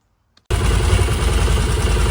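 After a brief silence, a Can-Am Defender HD10 engine starts running close by, settling into a steady, loud, pulsing mechanical chug with some clatter and no talk.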